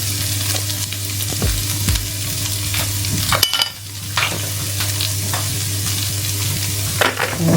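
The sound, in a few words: stirring spices and seasoning in a pan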